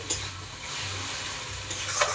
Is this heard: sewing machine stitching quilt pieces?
no